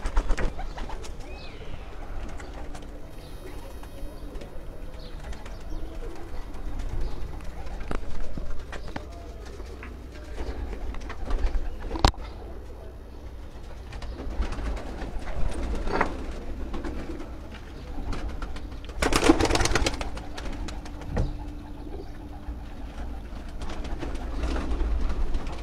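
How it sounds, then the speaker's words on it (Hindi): Lal Pari dab pigeons coo softly on a rooftop loft, low murmuring calls under steady outdoor background noise, with a brief louder burst near the end. "लाल परी डब वाले कबूतर तो दिखा रहे हैं जी"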